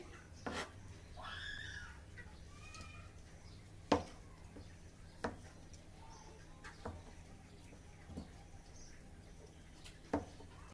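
A knife chops potatoes into small square pieces on a board, sharp isolated taps spaced a second or two apart, quiet and close, with faint chirps in the background.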